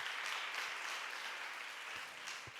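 A church congregation at a Christmas service claps in praise, a broad, even wash of many hands heard faintly from a distance for a few seconds.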